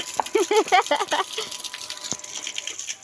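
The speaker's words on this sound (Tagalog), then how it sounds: "Sobrang lakas ng tubig." Water gushes strongly and steadily from a water pump being fitted for a DIY tap, a continuous rushing close by with brief voices over it early on.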